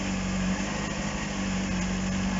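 Honda CBR600RR motorcycle engine running steadily while shifting gears, a constant buzzing drone at moderate level with no clear rev changes, heard alone.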